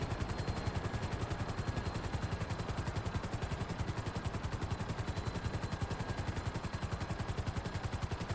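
A Sparrow helicopter's engine in the video game GTA Online drones with a fast, even rotor chop, a rapid pulsing beat that stays steady and fairly quiet throughout with no talking.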